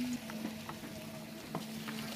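Prawns sizzling in a hot pan while being stirred, a continuous crackling fry broken by a few short scraping knocks of the utensil, close and fairly quiet, with no voices.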